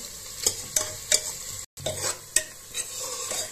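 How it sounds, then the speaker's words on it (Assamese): Onions frying in a pan for fish pulao on a moderate heat, a soft sizzle broken by rhythmic spatula scrapes and stirs roughly every half second, close by, with a brief silent cut midway. "এয়া পিয়াজখিনি ধুনীয়াকে ভাজি আছো"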